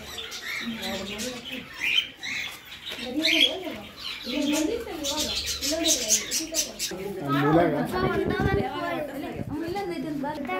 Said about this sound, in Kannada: ಲವ್ ಬರ್ಡ್ಸ್ ಅಂತಾರಲ್ಲ, ಚಿಕ್ಕ ಚಿಕ್ಕದು ನೋಡಿ